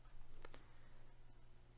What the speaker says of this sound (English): I am going to press delete on my keyboard